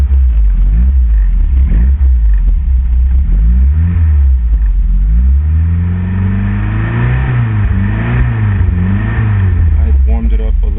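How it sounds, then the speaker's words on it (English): A Fiat Spider engine runs loud and close at idle, with a steady low rumble whose pitch drifts up and down as it settles, while someone talks over it. "Step it in the clutch, turning the ignition on."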